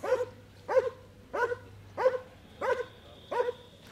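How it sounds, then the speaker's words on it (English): A protection-trained dog barks six times during a hold-and-bark exercise, in a steady, evenly spaced rhythm, each bark sharp and close, with little else around it. "how powerful, intense, and consistent the dog is in its barking"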